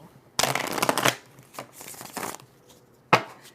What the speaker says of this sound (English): I've already shuffled these a lot